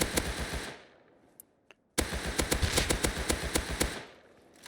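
A Tommy gun fires in the Rust video game. A fast automatic burst is followed by a pause with a couple of single shots, then a longer sustained burst of rapid, sharp gunfire that is loud and close.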